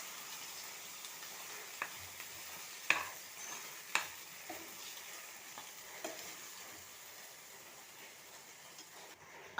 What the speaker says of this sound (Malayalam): എന്നിട്ട് എല്ലാം കൂടെ നന്നായിട്ടൊന്ന് യോജിപ്പിച്ചെടുക്കുക കേട്ടോ